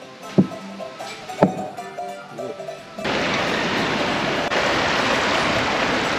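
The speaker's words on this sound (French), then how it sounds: "Même si la cascade est magnifique." A waterfall in French Polynesia: its broad, steady roar sets in suddenly after a few soft knocks, then rushes on continuously and loud.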